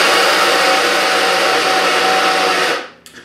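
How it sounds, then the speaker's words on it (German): An electric grinder mills chopped almonds in a loud steady whir for almost three seconds, then winds down and stops, leaving a couple of small knocks. "mahle ich hier gehackte Mandeln"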